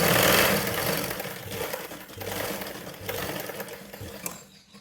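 A sewing machine stitches a blouse, running in a steady continuous whir with slight speed changes and short pauses before trailing off at the end.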